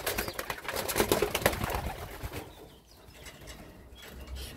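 Young homing pigeons coo in a loft with a dense, continuous murmur that is busiest early and then thins out, with a few soft flutters mixed in.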